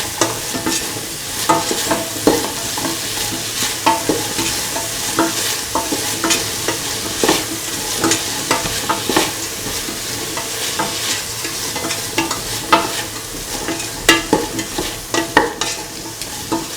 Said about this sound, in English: Thoroughly mixing the salt with the mixture